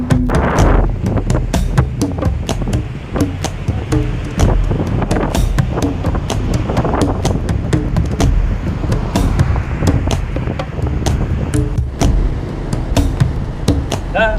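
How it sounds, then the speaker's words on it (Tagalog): Strong wind buffets the microphone during a scooter stop in Burgos, Northern Luzon, a loud continuous rumble with gusty bursts throughout, no speech. "Lakas ng hangin."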